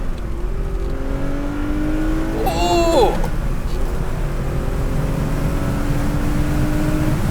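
Classic Porsche 911 with a 2.7-liter engine accelerating hard, a loud continuous engine drone rising through gear changes close by, with a brief exclamation from an occupant midway.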